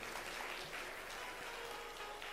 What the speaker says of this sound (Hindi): ताली कुछ ज़्यादा तो नहीं बजाई है आपने?